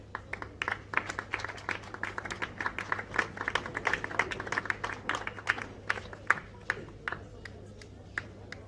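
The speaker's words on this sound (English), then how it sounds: "A round of applause, guys." Audience applause at an award ceremony, a steady crowd of hand claps sustained throughout at moderate distance, with some talking underneath.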